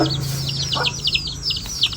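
A hen clucks close by in a rural backyard, a quick series of short, sharp repeated clucks and chirps over a low steady hum.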